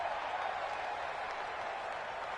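Stadium crowd in a PS4 American football video game, a broad continuous roar of cheering and applause that holds steady throughout without clear voices on top.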